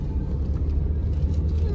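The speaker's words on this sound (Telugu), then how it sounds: "పార్కింగ్ చేస్తున్నాం" Car engine idling and rumbling at night while the vehicle is being parked at the Yadagirigutta temple hill, a steady low drone with no speech.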